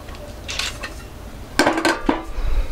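An old ceramic sugar bowl and coffee pot are handled, giving a few light clinks and scrapes of crockery, soft at first and then a sharper cluster of close knocks, with no talk.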